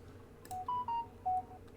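A phone giving off a short series of tone beeps, four brief clear electronic tones in an uneven rhythm, like keypad dialing, close and distinct with no talk.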